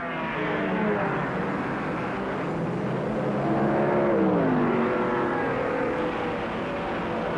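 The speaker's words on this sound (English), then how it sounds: "Gagan was busy lapping Jim McEwen's Cortina" 1967 touring race cars lapping the Lakeside circuit, including a Cortina, their engines droning steadily at a moderate distance, with one car's rising and falling pitch sweeping past midway.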